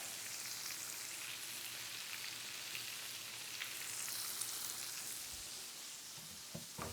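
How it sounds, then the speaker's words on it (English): Onions and peppers sizzle steadily in a hot pan for fajitas, a dense, even hiss of frying up close, with a few light clattering knocks near the end. "As we see the onions continue to brown and the peppers start to get charred"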